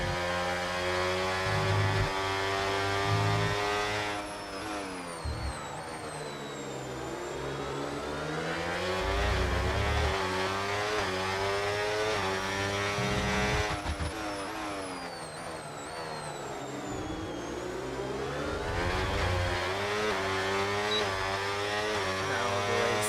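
Formula 1 race cars in a video game lap around Bahrain, their engines whining loudly through rising and falling gear shifts as cars pass close, a steady roar with pitch sweeps and no talking.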